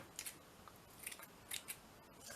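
Scissors snipping small pieces of lace for Easter postcards and tags: a series of quick, crisp, close cuts in small clusters, with quiet pauses between.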